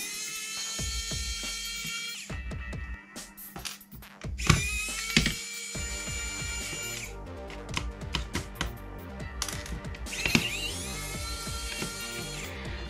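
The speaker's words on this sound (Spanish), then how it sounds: "Para ello cogeremos un destornillador de estrella. Voy a coger el eléctrico, que sea mucho más rápido." An electric Phillips screwdriver takes screws out of a Sega Game Gear circuit board, whirring in repeated short bursts with brief pauses, clicks and rattles between them. The sound is close and clear, with no talking.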